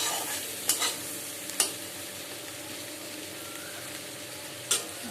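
Onion, ginger, garlic, dried chilli and tomato frying in a pan make a steady sizzle, broken by a few sharp scrapes of stirring.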